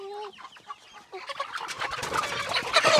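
Several backyard layer hens cluck and squawk close by, short choppy calls overlapping and growing busier and louder toward the end.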